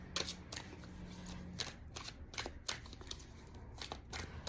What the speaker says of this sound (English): So I have the deck in front of me and I'm shuffling through it.